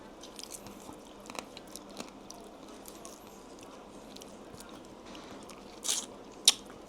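Soft close-up crunching and biting of garlic butter Cajun mixed seafood, scattered small crackles with a couple of sharper crunches near the end, over a quiet room background.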